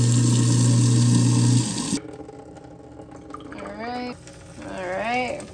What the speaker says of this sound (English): continue running the disposal and water until the foam drains